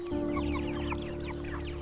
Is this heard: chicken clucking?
yes